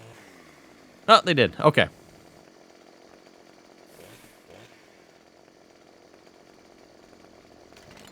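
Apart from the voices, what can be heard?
chainsaw cutting in the video game Farming Simulator 15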